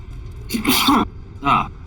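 A single sharp sneeze bursts out indoors during a tabletop game session, followed moments later by a short voiced reply.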